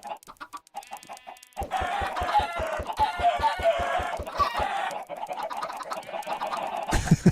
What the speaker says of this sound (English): One of these days I'm actually going to kill a chicken by throwing an egg at it.